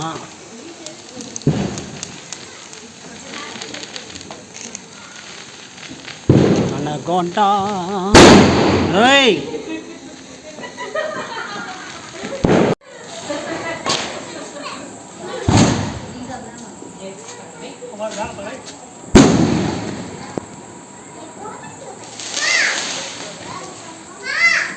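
Sharp Diwali firecracker bangs go off irregularly on a street, some loud and close, over the shouts and chatter of children playing outdoors.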